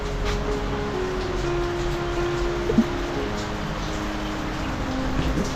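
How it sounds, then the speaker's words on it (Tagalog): Steady heavy rain pours down in a dense, constant hiss, loud and close, with no voices. "nagpapatila lang po ako ng ulan kasi medyo malakas"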